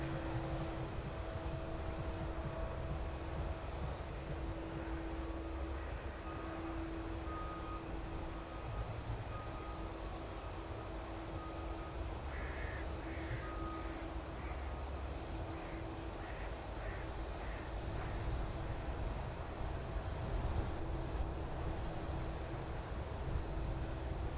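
Aircraft at East Midlands Airport, a steady distant engine roar with a constant low rumble and a few faint tonal whines, holding level throughout with no talk.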